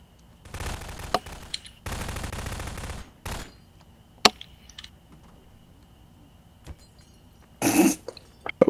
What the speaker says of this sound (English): I hear guns.